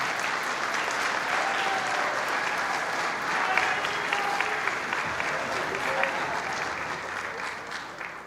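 A Wilson High School jazz and symphonic band concert crowd applauds the seniors in long, steady, dense clapping, with faint voices and murmurs mixed underneath and a slight fade toward the end.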